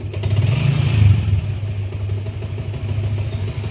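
A Yamaha Sniper 150 motorcycle engine with an error fault runs close by, rising in a brief rev before settling back to a steady, throbbing idle.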